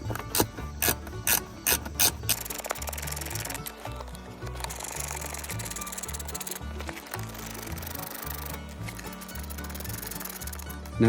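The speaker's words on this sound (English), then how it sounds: "I'll take my ratchet" A hand ratchet clicks steadily while running bolts down on a four-wheeler storage bag mount, sharp close pawl ticks in quick repeated strokes over a tonal music bed.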